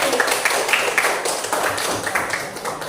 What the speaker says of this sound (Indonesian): kita beri aplaus buat kita semua dulu